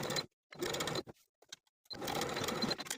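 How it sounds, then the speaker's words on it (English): A sewing machine stitches along the corners of a boho-style top, running in two rapid mechanical bursts broken by a short pause with small clicks, close and steady. "Sewing from the right side of the garment following the original stitching line."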